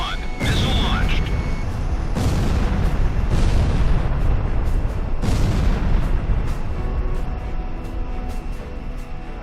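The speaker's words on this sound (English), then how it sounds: "GOM 1, missile launched" A missile launches in War Thunder, followed by a loud, continuous roar with several deep booming blasts rising out of it before the rumble slowly thins toward the end.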